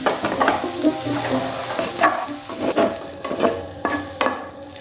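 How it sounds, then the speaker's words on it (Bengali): Roasted butter chicken is stirred in a pan over a gas flame, with a steady close sizzle and repeated scraping strokes of the spoon, all without voices. "এটা একটু এরকম ভাবে নাড়িয়ে নেব।"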